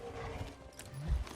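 Galloping hooves of horse-like alien creatures from a Star Wars sequel-trilogy film, a busy low clopping run with a louder thudding burst near the end, with no talk over it.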